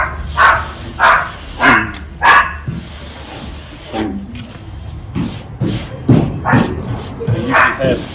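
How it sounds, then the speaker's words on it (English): Little dogs barking outdoors near a car being stripped of paint, a series of sharp yappy barks in quick clusters, some closer and louder, with a faint voice underneath. "Today we've got little dogs."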